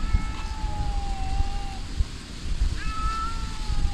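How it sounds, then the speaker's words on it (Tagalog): A cat meows twice near a garden patch of radishes, each call a drawn-out tonal cry with a rising-then-falling pitch, over a busy rumbling outdoor background. "May pusa dito."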